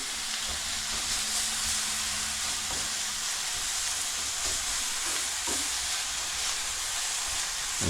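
Beef browning in a frying pan gives a strong, steady sizzle and hiss, close up and unbroken, with faint scraping underneath and nobody speaking.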